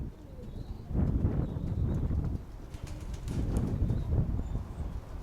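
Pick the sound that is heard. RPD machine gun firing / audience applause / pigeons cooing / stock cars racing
pigeons cooing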